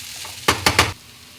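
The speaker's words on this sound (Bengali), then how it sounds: "এই মাছটা দিয়ে এবার সুন্দর করে এটাকে আমি ভাজা ভাজা করব।" Fish in hot oil gives three quick, sharp sizzling bursts close by, then settles back to a low, quiet background.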